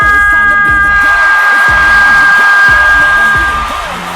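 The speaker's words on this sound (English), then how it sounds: "Listen to this noise. Ivy Cloud is back on fight night, and the crowd is loving it" A loud arena crowd at a wrestling event roars and cheers continuously over pounding entrance music, the noise swelling then easing slightly toward the end.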